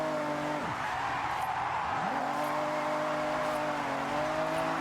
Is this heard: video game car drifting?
yes